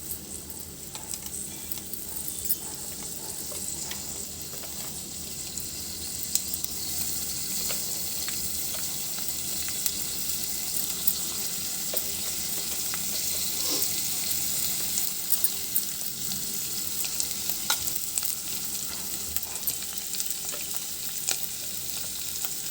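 Green chillies, onion and curry leaves fry in a pan with a steady, close sizzle and crackle, broken by occasional stirring clicks and scrapes.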